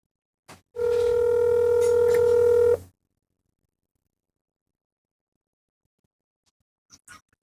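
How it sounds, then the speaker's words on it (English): Telephone ringback tone sounds during an outgoing call, one steady loud tone lasting about two seconds, followed by silence and a faint click near the end. "Let's see whether this man is going to answer the phone."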